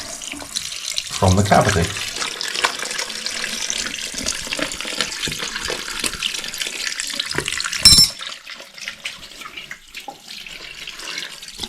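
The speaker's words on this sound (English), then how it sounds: "we're going to take it over to the sink, run the cold water" Cold water running from a kitchen sink tap while a butterflied fish is rinsed, a steady close splashing stream with brief clatter and a sharp knock partway, someone speaking briefly over it.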